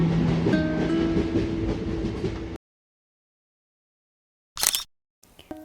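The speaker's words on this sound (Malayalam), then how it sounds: "ദാ ആ വരുന്ന ട്രെയിനിൽ നമുക്കൊരു യാത്ര പോയാലോ?" The Kottayam Nilambur Express rolls into a station platform with a loud rumble and wheel clatter, plus a steady horn-like tone, before cutting off abruptly; after silence come two short bursts of noise.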